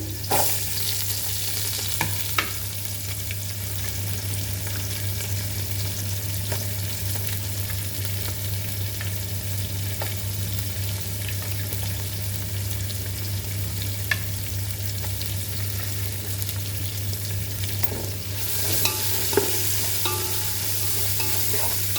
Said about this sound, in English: and fry this very nicely